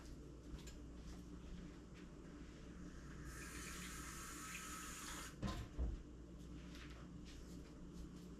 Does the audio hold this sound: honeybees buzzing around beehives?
no